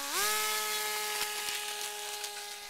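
A Wild Hawk RC model airplane's electric motor and propeller spin up fast, then hold a loud, steady, close buzzing whine with a few light clicks.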